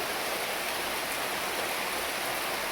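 A downpour of heavy rain falls outside a house fronted by large trees, making a constant, even roar of water throughout, with no one speaking.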